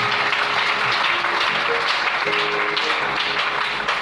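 A church congregation applauding and cheering in praise of the Lord, a steady, loud wash of clapping that fills the whole stretch without letting up.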